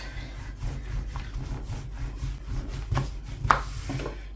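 Yufka pastry dough for börek is rolled out by hand on a wooden surface, giving a soft, repeated rubbing and rolling rhythm up close, with a light knock near the end; no one speaks.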